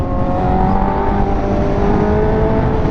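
A 1000cc motorcycle engine in A mode drones close and loud, a steady rising whine with strong low rumble and wind rush throughout.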